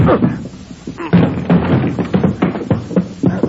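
Police pound on a door in an old-time radio crime drama: a few dull knocks and thumps land amid urgent overlapping voices.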